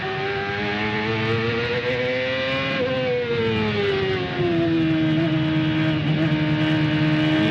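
Onboard CART race car engine from 2001 under gentle, gradual throttle, a loud, steady, buzzing harmonic tone rising and dipping smoothly through short shifts, growing slightly louder near the end.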